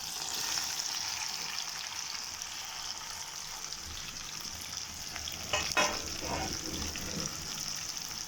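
Vegetables sizzling steadily in a pan while cooking a capsicum pasta curry, a continuous close frying hiss with a brief stir or clatter partway through.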